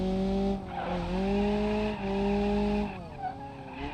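A car drifts in BeamNG.drive, its engine tone rising and falling between gear shifts while tires squeal steadily through the slides, fairly loud and with no voices.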